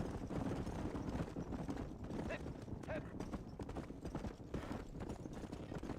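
Quick, continuous hoofbeats of a horse galloping in the video game Red Dead Redemption, a dense rapid clatter at low level with a faint whinny-like call partway through.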